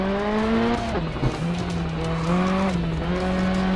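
Rally car engine in Sébastien Loeb Rally EVO on a circuit lap, revving loudly and climbing through gears with pitch rises and drops as it accelerates.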